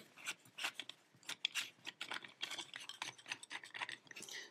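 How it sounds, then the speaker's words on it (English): A screw being unscrewed from the dial knob of a Polish combination lock, heard as close, quiet, dense metallic scraping and ratcheting rasps in irregular bursts, with no talking. "There is a screw here that is connected to the knob. I can unscrew it."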